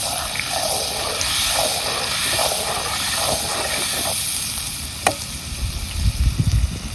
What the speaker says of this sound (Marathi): आता मसाला घ्यायचा असं हलवून